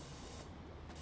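A pressure washer sprays water in the PowerWash Simulator video game during rooftop cleaning. It makes a steady, loud hiss of spray that runs unbroken through the whole short stretch, with no talk.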